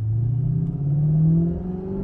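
A 1987 TVR 390SE V8 with its roof off accelerates, its deep engine drone rising steadily in pitch under a raspy exhaust rumble, loud and close from inside the car with no talking.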